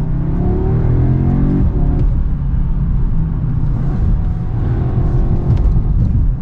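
An Audi S3 driven hard on the road, its engine holding a loud, steady rumbling drone that rises gently as the car accelerates, heard from inside the cabin with no talking.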